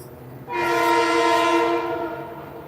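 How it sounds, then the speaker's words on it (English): A loud train horn blares with stacked harmonic tones, holding steady for about two seconds over the rumble of passing rail traffic before fading slightly. "there's a lot of noise because there's a lot of trains."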